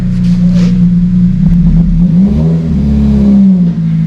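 A loud Honda Civic FN2 Type R engine on a dyno drones steadily and revs in long sustained pulls, heavy and close, holding a deep tone throughout without speech.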